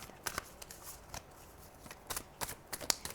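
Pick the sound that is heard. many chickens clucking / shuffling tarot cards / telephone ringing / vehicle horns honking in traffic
shuffling tarot cards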